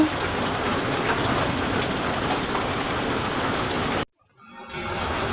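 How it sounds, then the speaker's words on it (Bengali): Heavy rain pours down in a loud, steady broadband roar that cuts off abruptly near the end, falls briefly to near silence, then returns more faintly. "তাও কিন্তু বৃষ্টি হইতেছে কি প্রচুর পরিমাণে বৃষ্টি হইতেছে"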